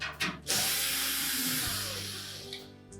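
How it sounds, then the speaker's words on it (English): Power tool unscrewing the three rear screws holding down the main top of a Whirlpool washer, a loud continuous whirring burst near and alone with no talk. "we'll need to remove these 3 screws located across the back"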